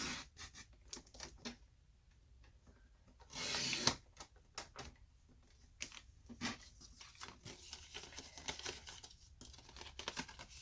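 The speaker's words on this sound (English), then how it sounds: "I'm cutting away some of this corner flap" Paper being cut with scissors or a blade to trim a corner flap during cardstock box-making, a string of soft crisp snips and crinkles with one louder rustling burst, close by and alone.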